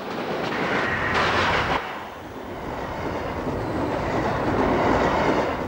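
An Amtrak Acela Express high-speed train rumbles past in a steady, loud roar of rail noise, rising briefly with a brighter rushing burst before settling back into a continuous wash of wheels on track.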